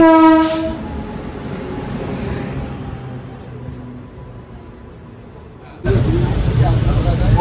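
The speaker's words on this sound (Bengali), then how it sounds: "ট্রেনটা হলো ঢুকে গেছে, ভাগীরথী এক্সপ্রেস।" Bhagirathi Express pulling into a station, opening with a loud horn blast, then a rolling rumble of coaches that eases off before a sudden burst of louder rail noise; voices can be heard nearby.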